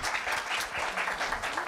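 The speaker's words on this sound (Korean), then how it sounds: "두 학생에게 큰 박수 다시 한번 부탁드립니다." Audience at a middle school speech festival applauding, a dense, steady burst of clapping from many hands at moderate volume.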